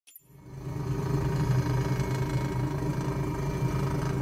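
An Airbus H135 helicopter engine in Microsoft Flight Simulator spools up from near silence into a steady, mid-loud whirring drone that holds for the rest of the clip.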